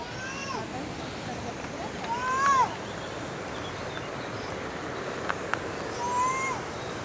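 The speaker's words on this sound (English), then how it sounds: "Check out some of these rapids." Rushing river rapids make a steady broadband roar along an urban riverside path in Montreal, with a few bright bird chirps and brief clicks on top.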